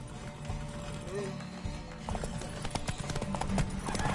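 Horse hooves clip-clop in a steady rhythm in The Witcher 3, close and fairly loud, with a brief whinny early on and game sounds and voices mixed in around the hoofbeats.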